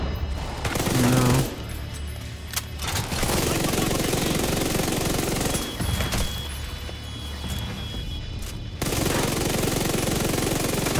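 SMG fire in The Division 2 comes in long, rapid automatic bursts, loud and close, broken by short pauses between bursts, with a faint voice underneath.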